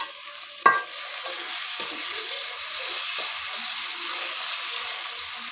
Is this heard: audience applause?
no